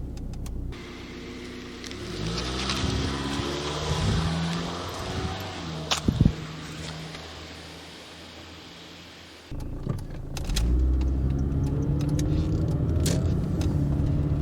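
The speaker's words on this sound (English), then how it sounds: "let's feel the power of a bigger engine, an ECU controlled fuel injection." A Rover R8 with a bigger, ECU-controlled fuel-injected engine pulling away under acceleration, heard from inside the car, with a rising engine drone and whirring gearbox, a brief dip as the gear changes, then a louder renewed pull.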